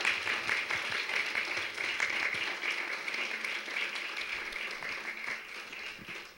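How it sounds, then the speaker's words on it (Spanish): A conference audience applauds steadily and fairly loudly for a speaker, a dense wash of many hands clapping that carries on throughout without pause. "Un fuerte aplauso para la doctora Zamudio nuevamente."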